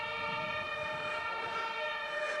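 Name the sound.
sirens wailing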